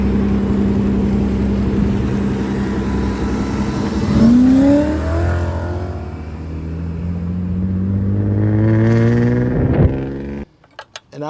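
BMW 540 engine revving with a deep American-style V8 rumble, close and loud, climbing and falling through several rising pitch sweeps before cutting off abruptly near the end.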